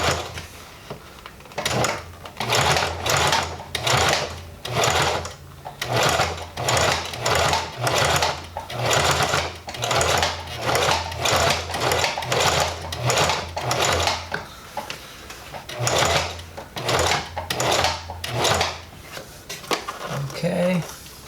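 A sewing machine stitches a Miata e-brake boot, running in steady rapid bursts with short pauses between runs and a low motor hum under each pass, close and loud.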